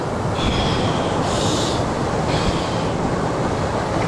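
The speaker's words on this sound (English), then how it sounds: "The waterfall's actually behind me." Steady, broadband roar of a waterfall close behind a cold pool, continuous and fairly loud with no break across the span.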